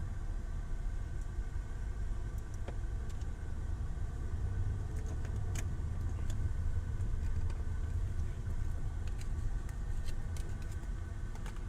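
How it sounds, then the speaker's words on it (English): City street traffic in Austin at night carries a steady low engine rumble from a car's interior, with faint clicks and road noise throughout and no talk. "Traffic is so bad in this city."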